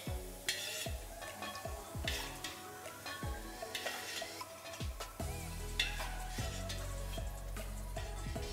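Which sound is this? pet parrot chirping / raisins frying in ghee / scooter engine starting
raisins frying in ghee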